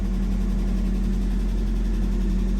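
Steady, rough idle of a Nissan D21 4x4 engine with its new alternator fitted, a continuous low droning rumble running close and even from start to finish with no voices over it.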